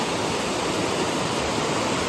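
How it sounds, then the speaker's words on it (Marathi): River water rushing during the monsoon season near a village, a dense, steady roar of broadband noise without breaks, loud and close, with no voices over it. "आणि हे बघू शकतात पाणी कसलं प्रेशर नाही"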